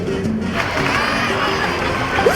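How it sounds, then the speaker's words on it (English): A crowd of characters in Genshin Impact cheers and shouts together in a loud, sustained burst of celebration with no single voice standing out. "Let's give a huge round of applause to our brave young warrior, Kachina!"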